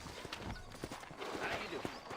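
Horses walk with a steady clip-clop of hooves in a Western frontier town in the Red Dead Redemption video game, the hoofbeats close and even beneath a voice.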